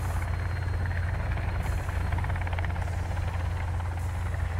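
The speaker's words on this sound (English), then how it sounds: "I'm in a helicopter." Helicopter flying in the survival game Sons of the Forest, a continuous heavy rotor thump and low engine drone filling the scene at steady loudness, with a whooshing broadband wash on top and no talking.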